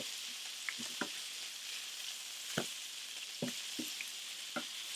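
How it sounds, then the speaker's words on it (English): Salisbury steak patties fry in a hot pan with a steady, close sizzle. A few sharp clicks and scrapes from turning the meat cut through at irregular moments. "We're just going to flip each of our pieces of Salisbury steak here."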